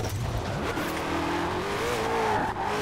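A 2020 Ford Shelby GT500 in the racing game Forza Horizon 4 roars at high revs in sixth gear, its engine droning loud and close while the tires squeal in rising, wavering skids.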